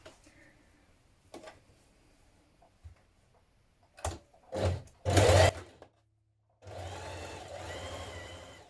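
A domestic sewing machine top stitching around the edge of dungarees, running in short separate bursts of stitching, then one longer steady run near the end, each with a dense whirring buzz over a quiet background.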